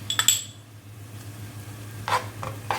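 Three garlic cloves drop into a pan with a few quick clinks and light sizzling at the start, followed by soft scraping and stirring sounds over a steady background hum.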